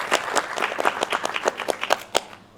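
A small panel audience claps briefly, individual hand claps clearly separable in a short, uneven burst lasting under three seconds.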